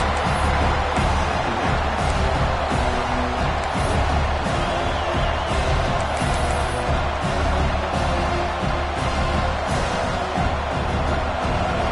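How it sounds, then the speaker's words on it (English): A packed football stadium roars with dense, sustained crowd noise, a steady loud wall of cheering and shouting with no break across the whole stretch. "listen to this crowd noise. This stadium is vibrating."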